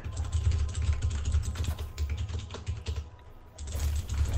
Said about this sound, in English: someone's typing like so fucking loud, dude